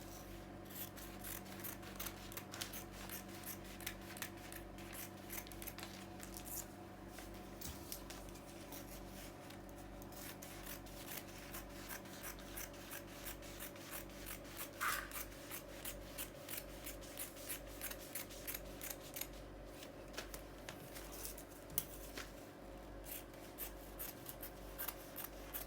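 Scissors cut through a paper pencil skirt pattern in a long, steady series of faint, close snips and rustles, the crisp cuts and crinkling paper repeating without pause.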